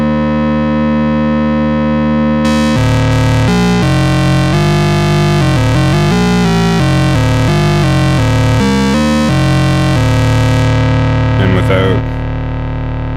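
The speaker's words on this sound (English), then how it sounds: "if we run the sync oscillator through the preamp back to the square output, it sounds like this." Behringer 2600 synthesizer with its sync oscillator routed through the preamp to the square output: a loud, buzzy, distorted drone with shifting harmonic sweeps and stepping pitch changes, sustained for most of the clip before fading with some crackle.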